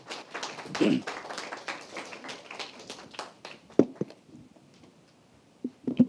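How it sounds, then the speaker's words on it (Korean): Sparse audience clapping welcoming a speaker at a forum, a thin patter of separate hand claps that thins out and fades toward the end, with a few louder isolated knocks. "여러분 박수로 맞이해 주시기 바랍니다"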